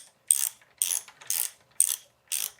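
A hex key, likely a ratchet-type tool, loosens a bicycle rear derailleur bolt on a Shimano XTR M9100 12-speed drivetrain: five crisp, evenly spaced ratcheting clicks, close and clear with no talk.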